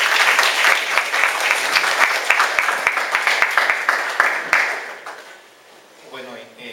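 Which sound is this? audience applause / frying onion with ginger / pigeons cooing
audience applause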